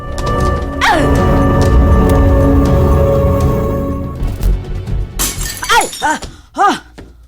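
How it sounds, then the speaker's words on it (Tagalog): A drinking glass drops and shatters in a Cebuano-language TV drama scene, one sharp crash followed by bright tinkling fragments ringing out and settling over a few seconds. "anong kalit ko mang nabuhian ang basong akong gigunitan?"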